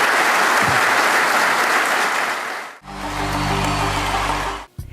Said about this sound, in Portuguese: Se pode aplaudir de coração, faça isso, faça isso.